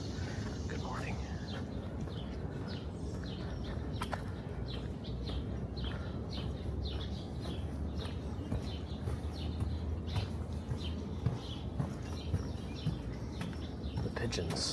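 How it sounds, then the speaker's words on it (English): Pigeons and other birds in New York's Central Park give scattered chirps and coos against steady outdoor background noise, with a person talking at times and footsteps passing. "The pigeons."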